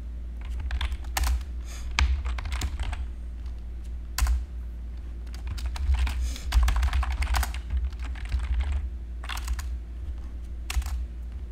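A noisy computer keyboard clatters under fast, uneven typing, with bursts of loud key strikes and short pauses over a steady low hum, close and with no talking.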